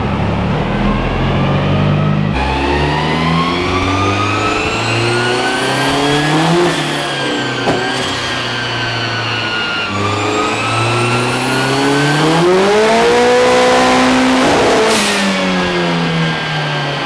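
A turbocharged B-series engine in an EG Honda Civic revs hard on a dyno, rising and falling through loud, sustained sweeps of engine note with no talking over it.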